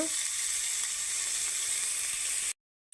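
Curry leaves crackle in hot oil with onion pieces and chillies, a steady close sizzle for about two and a half seconds that then cuts off to silence.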